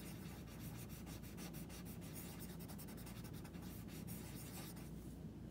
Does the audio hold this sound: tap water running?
no